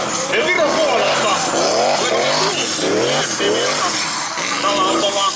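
A drift car from Estonia slides at the 2016 Venetsia drifting event, tires squealing through a long skid as the engine revs up and down in rising sweeps, all under a commentator's voice.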